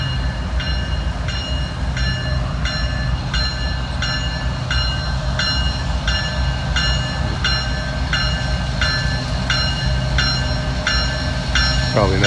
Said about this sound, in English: normally trains come through here doing 50, 60 mile an hour